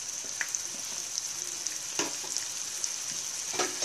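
Vegetables fry in a pan with salt, turmeric and black pepper as they are stirred in, a steady close sizzle with a high hiss and scattered soft scrapes of a spoon, no talking.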